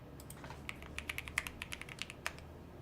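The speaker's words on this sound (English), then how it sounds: "The sound of keyboard is so common." Rapid, uneven clicking of computer keyboard typing, close and crisp, with irregular keystrokes and no voices.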